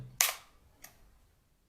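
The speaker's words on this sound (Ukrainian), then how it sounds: "можна робити знімок, натиснувши на кнопку спускання затвору" A camera shutter fires with a crisp mechanical snap, followed about half a second later by a softer second click, in an otherwise quiet room.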